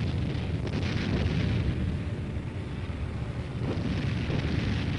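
Overhead artillery fire during a tank-infantry operation at Fort Hood, Texas, heard as a dense, continuous rumble of distant blasts and booms with no voices.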